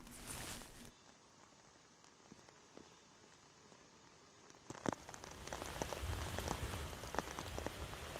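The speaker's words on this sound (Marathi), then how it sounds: "मरीन ड्राईव्ह परिसरामध्ये मुसळधार पाऊस कोसळतोय।" Heavy monsoon rain falls at Marine Drive in Mumbai, a faint steady patter that swells into a louder, denser downpour partway through.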